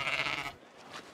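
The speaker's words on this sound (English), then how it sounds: "It's a sheep" A sheep in Egypt gives one short, nasal bleat, close and fairly clear, which quickly trails off into quiet background.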